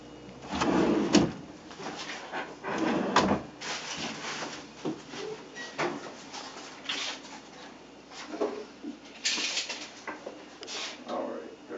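A walnut cabinet drawer slides open and shut several times in an installed cabinet system, giving soft wooden thumps and rolling scrapes close by, with quiet talk between the movements.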